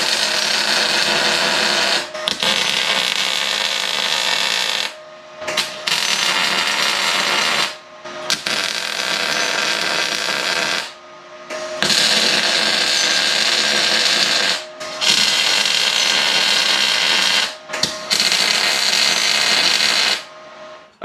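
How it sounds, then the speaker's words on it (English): Welder tack-welding a press brake built from scrap metal: loud, close, crackling welding bursts lasting about two to three seconds each, separated by short silent pauses. "we're going to grab the welder and we're just going to go ahead and tack this thing up"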